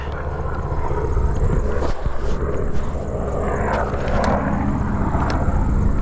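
A military helicopter passes overhead, heard as a steady, fairly loud broadband rotor and engine roar that holds through the whole stretch with no talk, caught from an e-bike on the road.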